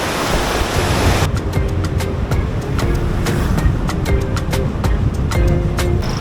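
Ocean waves at the seashore in Baler, Aurora wash in as a loud, broad steady roar, with scattered sharp ticks and clicks layered over the surf.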